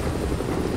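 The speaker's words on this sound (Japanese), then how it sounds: "まあ、ヘリが燃料切れで帰る。" A helicopter in the video game Call of Duty 4, leaving because it is out of fuel, gives a steady loud rotor roar and broad engine rumble, close and continuous.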